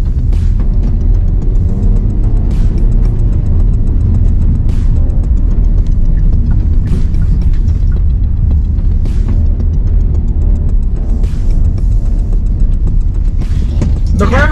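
A 2023 Hyundai Stargazer with a CVT is pushed hard through corners, its engine and road noise forming a loud, steady rumble throughout, with scattered sharp clicks and knocks over the top.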